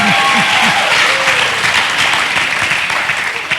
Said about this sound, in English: I was hoping you would clap